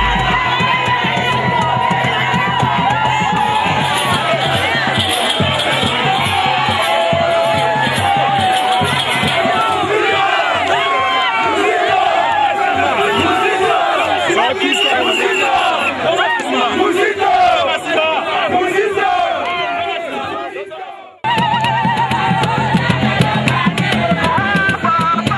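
A large crowd in Bunia cheers and shouts in a continuous loud roar as Prime Minister Adolphe Muzito arrives, with whoops and massed voices sustained throughout and only a momentary dip near the end.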